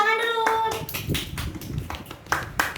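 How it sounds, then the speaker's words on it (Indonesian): A class of schoolchildren clap their hands together in a quick, uneven burst at close range, with a short spoken remark laid over the start. "Tepuk tangan dulu."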